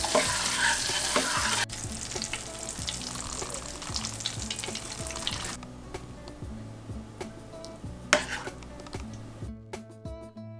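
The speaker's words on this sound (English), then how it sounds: "Stir until it's creamy and the cheese melt." Grits with butter, salt, pepper and Gouda cheese get stirred in a pot, with a spoon scraping and clicking in an uneven rhythm over a soft background sizzle, close and fairly quiet.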